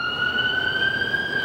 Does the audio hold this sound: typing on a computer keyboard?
no